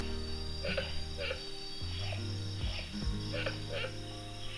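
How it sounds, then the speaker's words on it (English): Frogs or insects call at night in the Khao Sok jungle, with repeated short pulsing chirps over a steady high drone, moderately near. "Whether that's some sort of frog or a bird, or probably not a bird, maybe some sort of frog."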